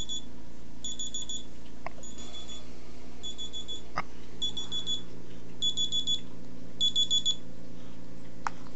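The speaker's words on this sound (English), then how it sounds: "Got an alarm going off." Alarm going off indoors: repeated bursts of high electronic beeping in regular clusters, getting slightly louder toward the end, over a low steady room hum.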